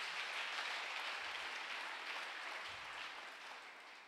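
A congregation applauding and cheering in praise during a church service, a dense, steady wash of clapping that slowly fades toward the end.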